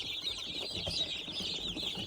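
Chickens in a home poultry setting with broilers and laying hens cluck continuously, a busy, overlapping chorus of nearby birds with no voices over it.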